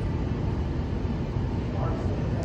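A tram pod travelling inside the Gateway Arch in St. Louis, Missouri gives off a constant low rumbling, rattling drone with broadband mechanical noise, steady throughout and close, with some voices faintly mixed in.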